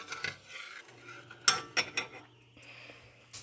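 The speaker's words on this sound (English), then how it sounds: "I'm going to start stirring this a little" A gummy building block mixture is stirred in a container, giving soft scraping and a few light clinks of utensil against the vessel, close and fairly quiet with pauses.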